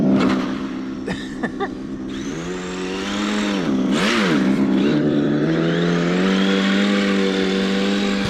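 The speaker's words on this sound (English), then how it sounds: "Come on, rally car." A Tamiya TT02 RC Lancia Delta Integrale rally car on snow, its electric motor whining up and down in pitch, then holding a steady high drone, close by after a few brief knocks.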